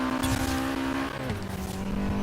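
In Forza Horizon 3, a Nissan Silvia S13 / 240SX drives with its engine roaring steadily while the tires squeal and break loose under hard acceleration.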